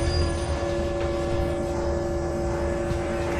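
A train rumbling steadily in Ninja Gaiden Sigma, a continuous low roar with a sustained mechanical drone, loud and close throughout with no voices.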